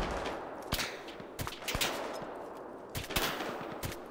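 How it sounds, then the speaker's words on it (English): Gunfire in the military video game Arma 3: sharp single shots and short bursts crack out at irregular intervals over a steady background rumble, close and fairly loud, with no talking. "Where are the shots coming from?"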